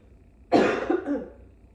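A single harsh cough bursts out close by, followed by a brief rough throaty tail, then quiet.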